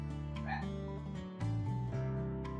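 A dog barks in the RimWorld video game, a couple of short barks over a bed of game music, with the in-game sounds mixed fairly loud.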